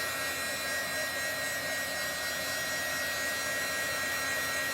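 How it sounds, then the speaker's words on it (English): A heat tool blows steadily and loudly, drying chalk paste on a craft board, a continuous broadband whoosh with no pauses. "keep moving this heat tool around until this gets"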